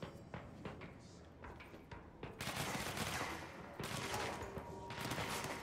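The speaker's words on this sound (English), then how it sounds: "I'm getting shot at." Gunfire in the shooter game Control, bursts of shots starting partway through and continuing densely, moderately loud with some faint talk mixed in.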